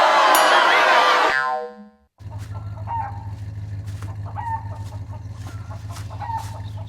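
A rooster crows loudly up close, then hens cluck repeatedly over a low steady hum, like farm birds inside a car.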